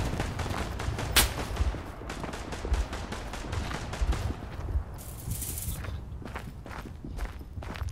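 Gunfire in the video game Verdun: scattered rifle shots crack among rapid running footsteps, with one sharp loud report early on and more distant pops later.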